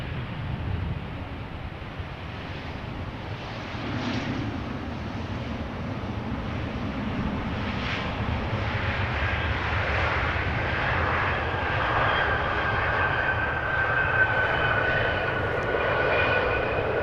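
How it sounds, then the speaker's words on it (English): An ITA Airbus A320neo in SkyTeam livery, arriving from Rome, approaches Amsterdam Schiphol with a steady engine roar that holds throughout, a broad rushing drone from moderate distance with faint wind noise. "ITA arriving from Rome will be number 3, which is an A320neo today"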